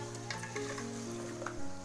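Meat cooking in a pot with bottle gourd sizzles softly while a spoon scrapes and stirs it, with a couple of light clinks against the pot.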